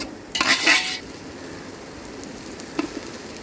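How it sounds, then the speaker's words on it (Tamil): Green chillies and ginger garlic paste sautéing in a pan, opening with a short burst of utensil scraping and clatter, then settling into a soft, continuous sizzle with one more brief clink near the end. "இதுவும் நல்லா பச்சை மிளகாவை வதக்கிக்கிறலாம்"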